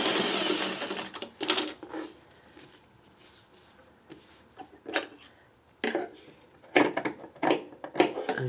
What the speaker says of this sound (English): And I'm only going to sew when I know I'm off that bottom piece.